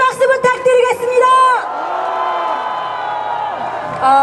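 A crowd at a SAVE KOREA national emergency prayer rally in Cheonan cheers and applauds, starting with shouted voices and then swelling into a loud, sustained roar of clapping and cheering that carries on for several seconds.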